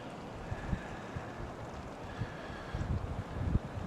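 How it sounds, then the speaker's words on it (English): Wind blows steadily through a snowstorm in Ohio, a constant broadband rush with low gusty buffeting against the microphone that grows rougher toward the end, with no voices. "The wind's blowing it around."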